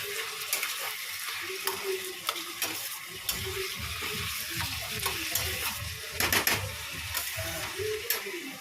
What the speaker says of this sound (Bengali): চলো এটা ভালো করে মজিয়ে মজিয়ে কষিয়ে কষিয়ে করবো লাউটা।